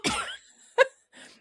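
A few short, breathy coughs sound close by, spaced unevenly with quiet gaps between them.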